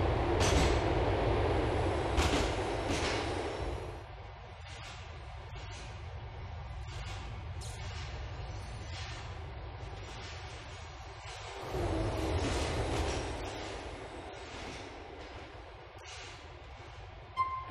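A subway train on the A line in GTA4's Liberty City, a steady rumbling ride with rhythmic wheel clatter and hiss, swelling louder in two passages and continuing alone without talk.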